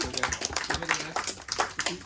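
Handclaps break out among a small group around a dining table aboard the Carnival Vista cruise ship after a card trick, several people clapping unevenly at close range with voices mixed in.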